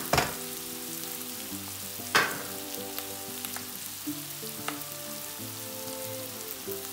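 Onions frying in a pan for a Turkish-style vegetable chicken sauté, a steady close sizzle with a few sharper crackles and spatters and faint background hum, no talking.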